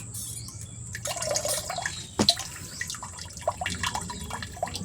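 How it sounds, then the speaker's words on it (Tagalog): Water leaks from a faucet tap while it is being vacuumed, giving close, irregular drips and soft trickling with a few sharper splashes partway through. No one speaks. "Tagasin na natin yung gripo kung malakas na yung tagas."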